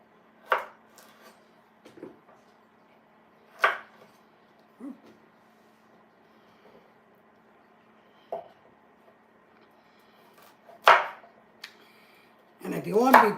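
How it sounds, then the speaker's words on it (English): Knife chopping carrots into smaller sections on a board for a slow-cooked dish: a handful of sparse, isolated sharp cuts spaced a few seconds apart in a quiet kitchen, with a louder clatter near the end. "So I'm going to cut the carrots up in smaller sections."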